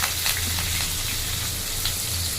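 Sliced large onion, curry leaves and fennel seeds sizzling in hot oil in a pan, a steady close crackling fry with brief pops, no talk over it.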